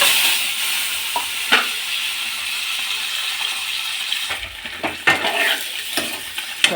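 Eggs fry in a pan with chilli powder and salt for a shahi egg curry, producing a close, constant sizzle broken by a few sharp utensil clinks and scraping stirs toward the end.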